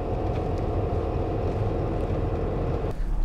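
A new B-cam camper van rolling along a public road, heard from inside as a loud, continuous low engine and road rumble that stays steady, with a slight shift near the end.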